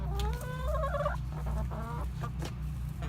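Several hens clucking and making drawn-out warbling calls close by, over a constant low electrical hum.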